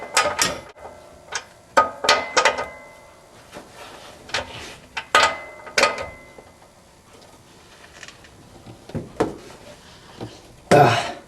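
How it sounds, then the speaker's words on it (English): Wrench tightening the rear shock absorber bolt on a 2005 Scion xB, giving a run of sharp metallic ratchet clicks in bursts, loud and close, with quieter pauses between strokes and no talk. "Then grab your wrench and tighten it back down."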